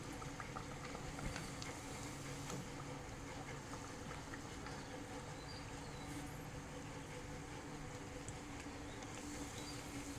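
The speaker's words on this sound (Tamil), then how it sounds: "சூடான எண்ணெயில் வந்து அதை போட்டு நல்லா பொரித்து ஒன்று ஒன்றா எடுத்துக்கணும்" Potato cutlets deep-frying in hot oil, a faint, continuous fine sizzle and crackle that holds steady throughout with no talking.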